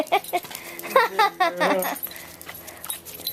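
Small dogs whimpering and yipping around a large bone, a cluster of high whiny cries up close over a steady background hum.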